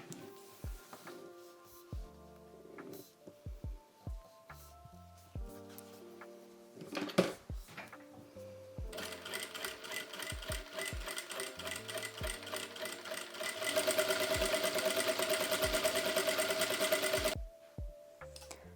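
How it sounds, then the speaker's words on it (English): A domestic sewing machine stitches along a feather robe belt. Several short runs of stitching come first, then one long, steady, louder run before it stops. There is no talking. "we're gonna sew along it, leaving a small opening in the middle"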